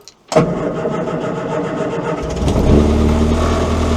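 A Morris Minor engine cranks and catches with the choke on, firing up abruptly after a short silence, then settling into a loud, steady idle that rises slightly toward the end.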